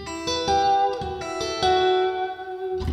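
A guitar plays the riff, a few plucked, sustained notes and ringing chords with a clean, bright tone, close and alone, the last one fading out.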